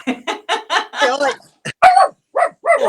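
A pug puppy's short, high yaps sound in a quick irregular burst of several barks, close and loud, with people talking around them.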